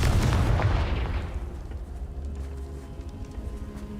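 A Confringo explosive spell blasts in Hogwarts Legacy with a loud, deep boom at the start that rumbles and decays over a few seconds into a low, steady game background.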